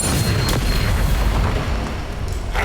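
A Bombarda spell blast in Hogwarts Legacy booms loudly, with heavy rumbling impacts and sharp bursts packed into a few seconds of combat.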